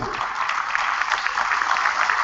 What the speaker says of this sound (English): I would like to give a round of applause for them